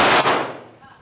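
A single close, loud shot from a Walther PPK/S .32 pistol cracks sharply, then decays into a short echoing tail.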